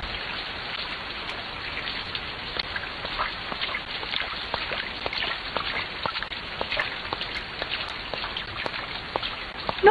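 Steady rain falls throughout with scattered sharp drops tapping on a surface, fairly faint and even, with no voices.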